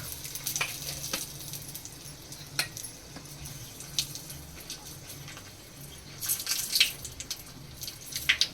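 Chillies and asafoetida sizzle in hot oil for a dal tadka, a steady close frying hiss with sharp crackles and pops throughout, louder bursts near the end, with no talking.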